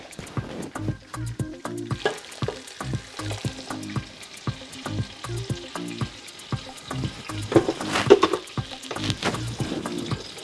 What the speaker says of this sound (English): Whilst that is frying